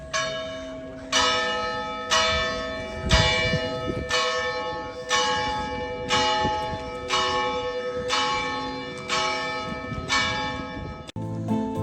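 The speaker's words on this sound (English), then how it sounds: "And the bells are going right on time." Church bells ring out in Altea old town, Spain, about nine loud, evenly spaced strikes with long ringing decay overlapping each other, close and clear with no talk.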